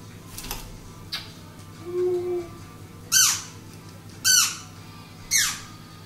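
A baby bird gives three sharp, loud squawks at a steady interval, with fainter chirps and a soft whistle earlier over a low background hum.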